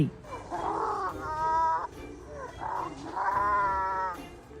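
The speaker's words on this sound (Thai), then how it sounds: "การส่งเสียงฮึดฮัดแปลกๆ ก็สามารถใช้เพื่อข่มขู่คู่แข่งได้" Strange whining, grunting maned wolf vocalizations come in several bursts, some with a wavering, tonal quality, close and fairly loud.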